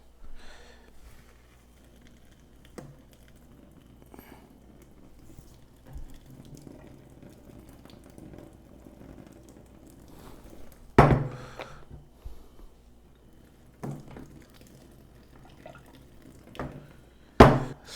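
Water from a cooking pot is poured through a strainer in a kitchen, giving an uneven trickling splash with a few louder gushes and clunks of the pot, close by and with no talk.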